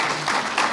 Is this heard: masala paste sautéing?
no